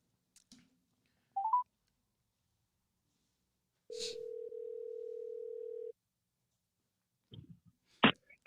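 A telephone is dialed to place a call: two short tones, then a steady two-second dial tone, followed by a few clicks and a sharp burst, alone in silence.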